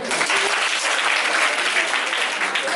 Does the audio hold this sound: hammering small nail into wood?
no